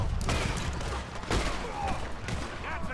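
Dense gunfire in Red Dead Redemption 2 as a player shoots a stagecoach driver, with rapid overlapping shots and booming reports filling the whole span and no pause between bursts.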